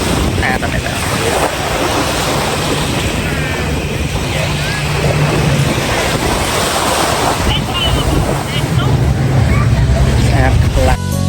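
Surf rolls and crashes on a beach in a continuous roar, with strong wind buffeting the microphone throughout.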